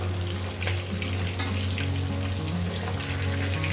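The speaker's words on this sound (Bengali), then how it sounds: "বাদবাকি দুটো মাছ একেবারে ভেজে নিয়ে দিচ্ছি" Katla fish pieces frying in hot oil, a dense, loud, continuous sizzle and bubbling with a few sharper spits and crackles breaking through, heard up close.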